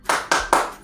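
Children clap a short chant rhythm in a primary school class, three sharp, evenly spaced claps close by with no voices over them.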